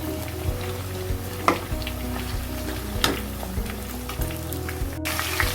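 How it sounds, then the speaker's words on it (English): Onions and cauliflower frying on high heat for Hyderabadi veg dum biryani, a steady close sizzle with occasional stirring clatters from the pan, with no talking. "And now you see I've added some onions to it, and now I'm adding cauliflower also. Frying all on high"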